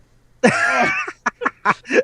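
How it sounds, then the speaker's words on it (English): A single person coughs and clears their throat close up, one harsh rasping burst followed by several short, separate coughs in an uneven rhythm, with no talking. "There goes the coughing again."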